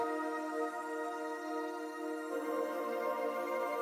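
A high, harsh Zebra synth sustains bright layered tones, swelling brighter midway and continuing alone without any voices.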